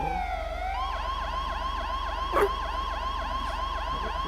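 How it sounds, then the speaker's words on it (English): A police siren wails steadily in a GTA roleplay game, cycling through rapid rising-and-falling yelps that start from a lower sweep, close and loud with a brief burst of noise midway. "that's the siren."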